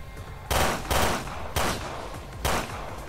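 Gunfire from a triple-shot weapon in Resident Evil Revelations 2 rings out as four loud, evenly spaced bursts, each a short blast with a brief tail, over faint game ambience.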